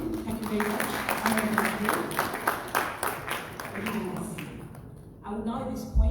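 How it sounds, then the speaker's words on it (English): An audience at a formal symposium applauds its chairman with steady, dense clapping that is fairly loud and continuous, fading briefly near the end while a voice speaks over it. "Another round of applause for our chairman."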